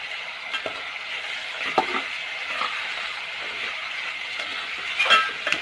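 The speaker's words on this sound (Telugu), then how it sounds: "ఇప్పుడు మనం చిన్న ముక్కలుగా కట్ చేసుకున్న టమాటా ముక్కలు వేస్తున్నాము." Small chopped tomato pieces are stirred into a frying mutton curry, a soft sizzle under intermittent scraping and clinks of a ladle against the pot, fairly quiet and close, no speech.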